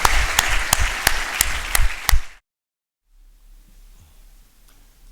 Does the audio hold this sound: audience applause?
yes